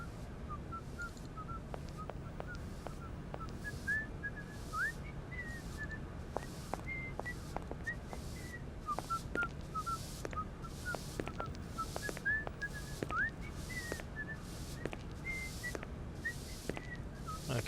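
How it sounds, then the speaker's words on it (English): A man whistling a tune in the video game Syberia, small quiet notes drifting over a steady low background hum, with faint scattered ticks and scrapes that could be sweeping; no talking. "There's some whistling and"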